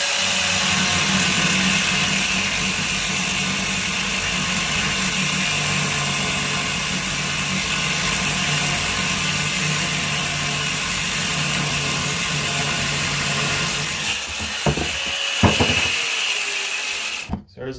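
A power tool cuts a steel rod in half for DIY extended sway bar links on an FJ Cruiser or 4Runner, a steady loud whine and grind for about fourteen seconds, then a few knocks and clatter as it stops.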